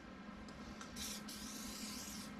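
A continuous hiss of an Easy Off oven cleaner aerosol can spraying close by onto a Chevy 350 engine, rising into a brighter, stronger burst for a moment over a low steady hum.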